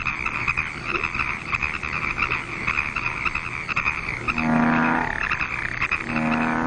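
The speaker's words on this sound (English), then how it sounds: "Bullfrogs are the largest of the American frogs." Bullfrogs croak at a pond, a dense chorus of deep, rhythmic calls with louder nearby croaks swelling in the final seconds, no voices.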